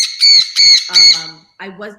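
Pet bird squawking three times in quick, loud, harsh calls close by, followed by a shorter chattering call.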